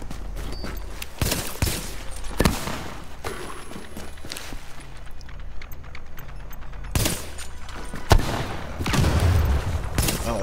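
Video game gunfire with explosive hits from a rifle called the Historian during PvP play, loud sharp shots repeating in bursts with rumbling blasts, footsteps and movement between them.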